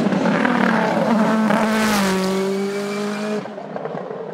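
An Osella PA30 Turbo race car on a hill climb, its engine note rising and then dropping through the gears as it passes near and loud before cutting off sharply.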